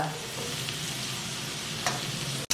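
Carrots, capsicum and green beans sautéing on a tawa for pulao, a dense close sizzle with stirring scrapes and a sharp clatter near the end.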